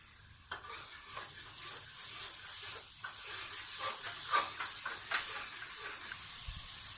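Garlic paste frying in a pan of masala for a moong dal and dried fenugreek dish sizzles and hisses steadily, with the soft scrape of stirring repeating throughout.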